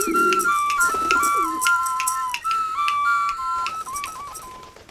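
Repeated whistled, dove-like coos from a pigeon puppet, a steady series of clear tonal calls, loud and close, over a light rhythmic backing.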